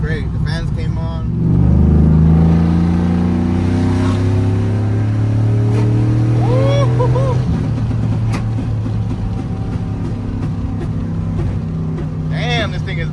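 A car pulls hard in second gear, its engine droning loudly as the revs climb and then ease off, with a voice speaking over the noise from inside.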